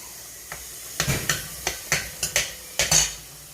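A metal spoon scraping and clinking as homemade sofrito is scooped from a container for a beef burrito, a run of about nine sharp close taps over a faint kitchen hiss.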